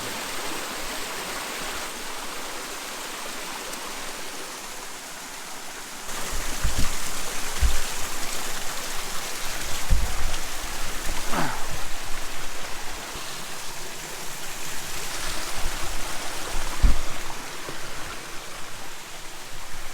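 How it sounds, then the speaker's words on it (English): A large, tall waterfall roars with a steady broadband rush of falling water, loud and continuous throughout, with occasional louder surges and bursts of splashing. "this is a pretty large waterfall. Pretty tall."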